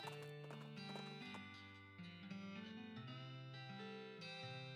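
Horse gallop in the West of Loathing video game, heard as steady clip-clop hoofbeats running throughout under a loud layered game music track with sustained tones, no speech.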